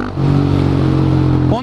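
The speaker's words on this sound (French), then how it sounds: "On est sur un KTM Duke 690 passé en café racer." A KTM Duke 690 single-cylinder motorcycle converted into a cafe racer, its engine a brief close rumbling drone that holds steady for a moment before a quick rising rev at the end.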